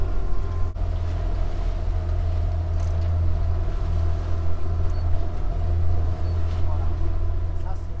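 A sailboat's engine drones steadily with a low, continuous hum throughout, fairly loud and close, with faint background noise.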